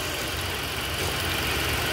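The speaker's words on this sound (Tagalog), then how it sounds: "Ayan, makaandar na yung makina." A Ford Explorer engine runs steadily after a water pump replacement, producing a continuous, broadband mechanical drone close by with no talking over it.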